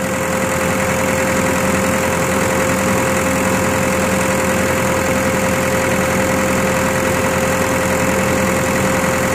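A Komatsu PC120-8 excavator engine idles, a loud, close, steady diesel rumble with an even throb that holds without change throughout.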